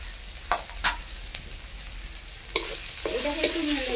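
Chopped onion frying in a pan, stirred with a utensil that scrapes and taps against the metal a few times over a soft sizzle, close and clear, with a brighter clatter near the end.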